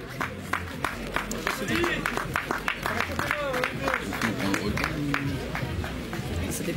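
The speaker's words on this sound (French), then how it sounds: "Allez, on peut les applaudir." Crowd at a French bicycle race in Château-Gontier clapping and cheering for the riders, steady rhythmic applause mixed with chatter and a voice over a loudspeaker.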